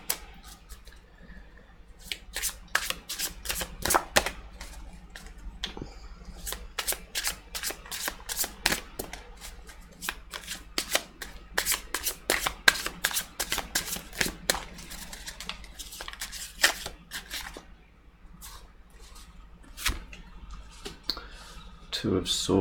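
Tarot cards are shuffled and drawn during a tarot reading, giving a close run of crisp card snaps and riffling flicks in irregular bursts throughout.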